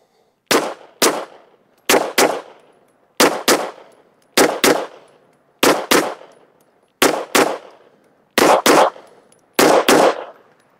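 A pistol fitted with a Strike Industries Strike Micro compensator fires 124 grain reloads with Barry's bullets over 4.8 grains of CFE Pistol, loud close shots in quick doubles and occasional triples with short pauses between strings.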